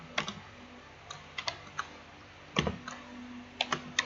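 Irregular, close clicks of typing on a computer keyboard come in short bursts and single keystrokes over a faint background hum.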